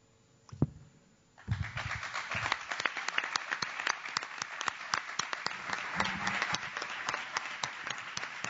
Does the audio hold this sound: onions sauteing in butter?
no